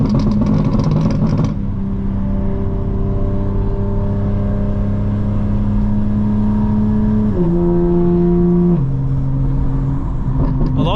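A tuned 2025 BMW M4 Competition xDrive drones under load with a steady engine note, then shifts pitch twice as the revs change, loud and close from inside the car, with a brief rougher burst at the start.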